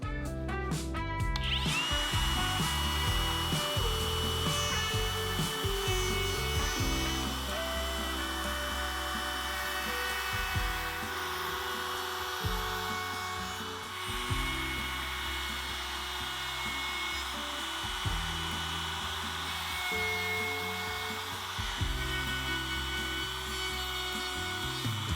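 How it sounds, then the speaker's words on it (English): A router fitted with a chamfer bit runs steadily along the edge of a wooden mortise and tenon display frame, a loud continuous whine with rubbing cutting noise throughout, no talk. "I've got a chamfer bit in the router, and I'll put a slight chamfer on the edge."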